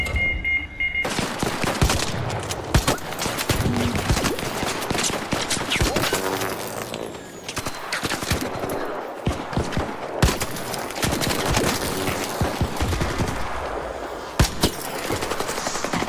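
Dense, sustained automatic gunfire in the ARC Raiders video game, with rapid bursts and sharp shots continuing nearly throughout, loud and close.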